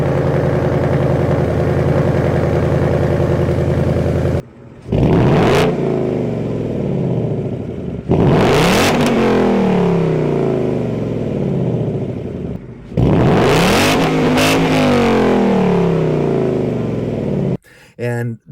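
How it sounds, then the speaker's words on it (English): A Ford Mustang GT with the Coyote V8 idles with a deep rumble, then is revved hard three times, each rev climbing and falling away, with short gaps between, loud and close. "nothing beats the rumble and the sound that the V8 makes. Especially this Coyote engine is one of the best sounding V8s you can get."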